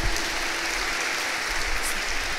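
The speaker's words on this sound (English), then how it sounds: "Big round of applause for them." An audience at a junior school annual day claps steadily for the children who performed, a dense, sustained patter of many hands at moderate loudness with no voices over it.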